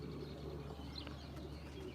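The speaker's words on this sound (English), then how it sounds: "I got 58 pigeons in here." Racing pigeons coo softly inside a loft, low murmuring calls faint against a steady background hum, with a brief higher chirp near the middle.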